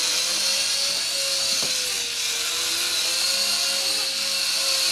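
A small RC mini helicopter flies nearby with its tail rotor driving a steady, high-pitched whine and buzz that holds throughout without any talking, with one faint click midway.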